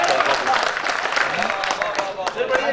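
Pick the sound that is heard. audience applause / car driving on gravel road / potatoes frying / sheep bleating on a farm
audience applause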